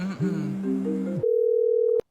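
A phone call rings out unanswered, a steady electronic tone holding unbroken for most of a second after a burst of talk, then cutting off abruptly.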